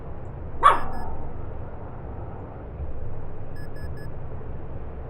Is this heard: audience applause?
no